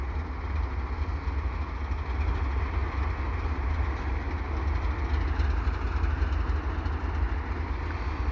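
A westbound CN freight train led by General Electric ES44 locomotives slows near the Turcot holding tracks, giving a steady, loud, low rumble with a broad, even wash of noise throughout and no voices.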